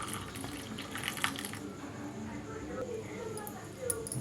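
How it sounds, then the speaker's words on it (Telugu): Half a litre of warm milk is poured into cooked rice, a soft trickling liquid pour heard faintly and close, with a voice speaking over it. "ఇప్పుడు దీనిలో కొంచెం వేడిగా ఉన్న పాలుని ఒక హాఫ్ లీటర్ వరకు పోసుకోవాలి"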